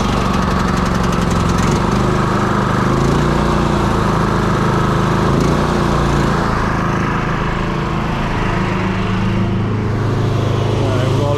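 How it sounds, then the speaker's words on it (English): A small air compressor engine runs loudly and steadily throughout, a dense continuous drone at close range in a truck yard, apparently already started with no pauses or gaps. "let's hope my air compressor will start first"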